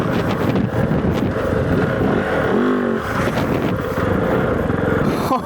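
A Kove 450 rally motorcycle ridden off-road on a forest track, its engine droning loudly and steadily with a brief rising pitch as it revs, buffeted by wind noise at close range.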